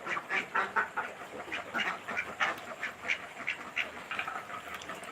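A group of ducks quacks in quick, repeated bursts at a moderate distance, the calls overlapping in an uneven rhythm. There is no talking.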